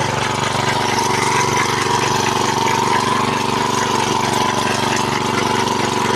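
A grass-cutting machine's engine runs steadily while mowing Nile grass, a loud, constant mid-pitched drone with no breaks or talk.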